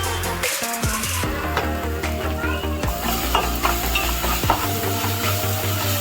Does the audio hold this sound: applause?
no